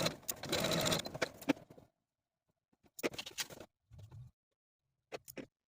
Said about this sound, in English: Then we can take them to the sewing machine and sew from one point to the other